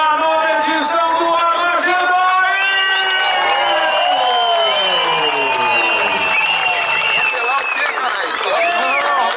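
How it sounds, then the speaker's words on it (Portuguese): An event crowd claps and cheers loudly and continuously, high shouts, whoops and children's voices layered over dense applause for the whole stretch. "E eu quero uma salva de palmas para todo mundo"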